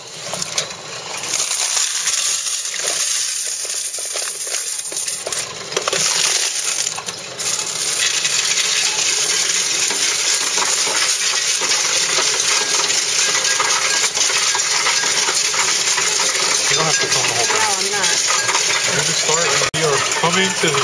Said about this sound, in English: this is the last of our coins